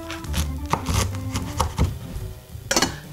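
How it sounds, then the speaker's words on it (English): A knife cutting through a pomegranate on a board, a series of irregular firm thuds and crunchy chops, close and fairly loud, with no talk. "A quick tip to de-seed a pomegranate is cut about a third of the pomegranate off."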